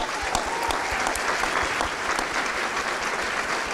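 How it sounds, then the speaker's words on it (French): Steady audience applause fills a concert hall as a performer is welcomed on stage at an acoustic live show, dense and continuous throughout with a faint whistle or cheer near the start. "Je vous demande d'accueillir et d'applaudir comme il se doit"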